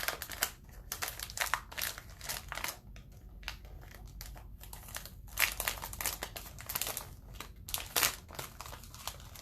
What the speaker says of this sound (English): Let me get this transfer out of its packaging